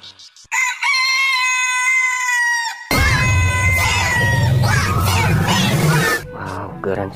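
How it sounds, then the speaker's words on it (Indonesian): A rooster crows loudly and close, one long sustained call followed by a second, harsher crow with squawking clucks, with no talk. "Wow, lihat. Ini ayam."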